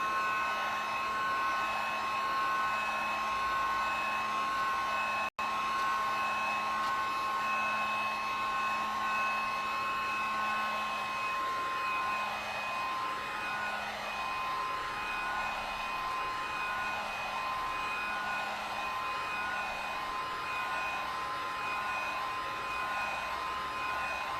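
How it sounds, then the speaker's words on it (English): A heat gun blows hot air over wet ink on paper in a craft session, a steady, loud, continuous whirring roar with a constant tone that runs unbroken for the whole stretch. "I'm going to hit it with a heat gun."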